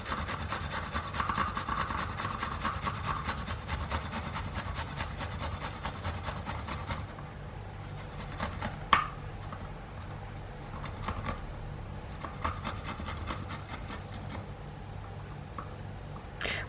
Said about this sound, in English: I need to grate 2 garlics.